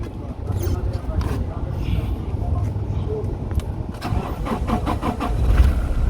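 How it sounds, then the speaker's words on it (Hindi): A Toyota Hilux with a 1GD diesel engine that knocks and blows black smoke is cranked and started, the engine catching and running loudly up close while someone talks over it. "अभी मैं आपको इसकी स्टार्टिंग भी चेक करवाता हूँ।"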